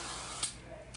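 Hairspray containing sugar alcohols is misted over a made-up face to set makeup, giving a quiet airy hiss with one brief sharper spurt of spray.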